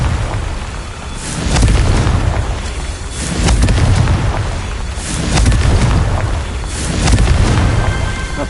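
Repeated booming blasts from the Confringo fire spell in Hogwarts Legacy, several deep rumbling explosions rolling one after another at a steady pace, loud and close with no talk over them.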